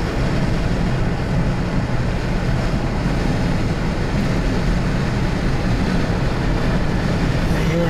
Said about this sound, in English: you have a CSX train over here that's slowed way down